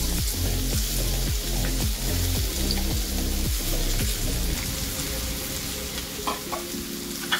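Potatoes fry in a pan with a steady, close sizzle, broken by regular scraping strokes of a spatula stirring them, with no talking.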